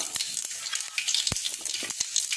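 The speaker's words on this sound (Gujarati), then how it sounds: "રાઈ ચટકે ત્યાં સુધી આપણે તેમાં" Mustard seeds crackle and pop in hot oil in a pan for a Gujarati patra dish, a dense close sizzle with sharp, irregular snaps scattered throughout.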